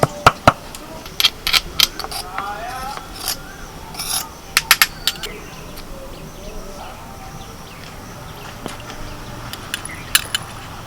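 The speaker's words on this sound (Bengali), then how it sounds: "আদা আর কাঁচা লঙ্কা আমি একটু থেঁতো করে নিচ্ছি" Ginger and green chili are crushed by hand, making irregular sharp scraping and knocking hits scattered over a soft background.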